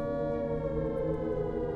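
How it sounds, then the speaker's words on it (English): A steady, droning air raid siren wails continuously at a loud, even level in the video game Skyrim. "why do I hear air raid sirens?"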